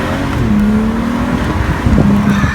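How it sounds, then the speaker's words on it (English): A 2011 BMW 135i M Sport convertible engine pulls hard under full throttle, a loud steady drone that climbs in pitch, briefly dips around a shift, then rises again close by. "It has a screaming engine in this car."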